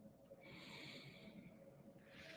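A single soft inhalation through the nose during a guided breathing exercise, close and quiet, with a faint airy rush that fades and then rises again at the end.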